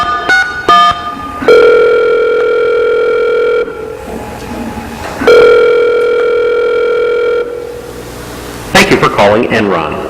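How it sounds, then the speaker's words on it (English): A telephone handset sends out rapid touch-tone dialing beeps, then steady dial or ringback tones that hold for a couple of seconds at a time. Some crackle follows, and the tones are fairly loud and close. "Let's dial up Enron and see what kind of a answering service they have."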